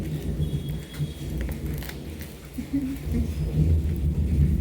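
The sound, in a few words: rain falling with thunder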